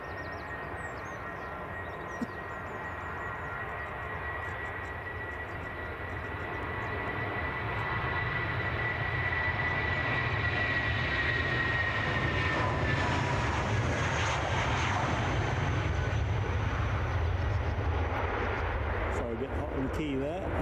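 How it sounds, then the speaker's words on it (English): Aer Lingus airliner arriving at Edinburgh Airport, a broad engine roar with a whining tone that swells gradually from distant to louder and nearer, then holds steady as it passes, with a voice speaking over it. "I'll look out for the Aer Lingus"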